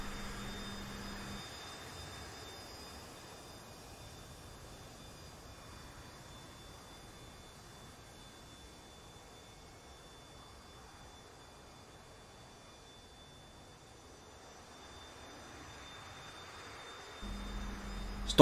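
A Saab Viggen jet in a flight simulator rolls slowly toward the runway on a fine day, a faint steady engine whine and hum that stays low and even throughout, with no talking.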